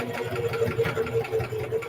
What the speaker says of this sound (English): I'm going to put my needle down, and I'm going to back stitch.